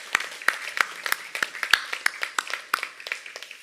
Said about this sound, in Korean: 감사의 마음으로 박수를 영광을 하나님 앞에 돌립니다